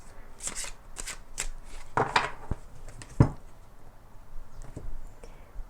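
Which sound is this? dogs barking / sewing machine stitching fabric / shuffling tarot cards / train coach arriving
shuffling tarot cards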